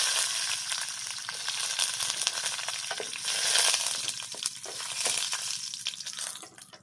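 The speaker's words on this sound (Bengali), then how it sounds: "সাদা তেল গরম হয়ে গেছে এখানে আমি দশ পনেরোটা মতো বাদাম কাঁচা বাদাম দিয়ে দিলাম" Raw peanuts, about ten to fifteen, fry in hot white oil in a wok, a steady broadband sizzle with crackling pops and scraping stirs that swells midway and fades at the end, no voices.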